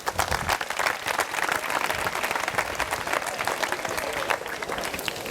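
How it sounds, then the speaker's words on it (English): A foundation launch audience gives a full round of applause, many hands clapping in a dense, steady wash at moderate volume, with no speech over it. "You ought to give them a round of applause."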